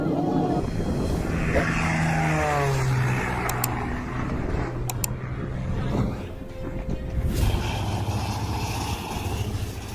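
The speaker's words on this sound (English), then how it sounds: "Engines roar as the aircraft lifts off from the runway at Naval Air Facility El Centro." A military aircraft taking off from the runway at Naval Air Facility El Centro, its engines roaring loudly and steadily throughout, with a rising tonal sweep early on and a brief swell near the end.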